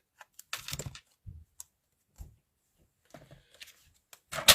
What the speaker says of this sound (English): cut the ends off.